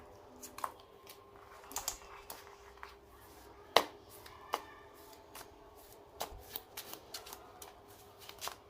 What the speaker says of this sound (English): We'll just make a small power shuffle here.